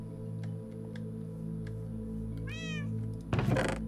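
A cat gives a single clear meow partway through, fairly close, over a steady low hum and a few soft ticks, followed by a brief knock.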